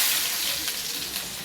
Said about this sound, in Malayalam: കടു പൊട്ടണം.